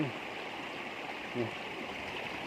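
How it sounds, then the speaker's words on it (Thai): Water flows down a narrow channel at a fish trap, a steady, faint rushing with a brief slosh midway, heard close and continuous without any talk over it. "พราะว่าน้ำไหลลงมา"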